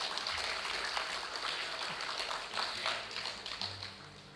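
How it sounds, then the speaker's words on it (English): Quiet, distant applause from an audience honoring a performer at an awards event, steady clapping that continues evenly and faintly throughout. "Let's give him a round of applause"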